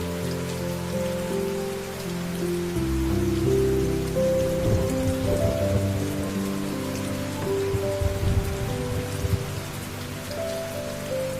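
A downpour of heavy rain keeps up a continuous, full wash of patter beneath soft, held musical chords, with no voices present.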